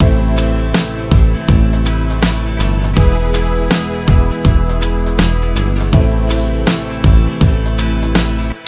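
A hip hop chorus from a full mix, with hard-hitting strummed guitars over punchy drums and deep bass, loud and dense with a steady driving rhythm.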